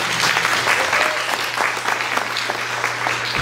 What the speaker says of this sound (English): we should all give ourselves a round of applause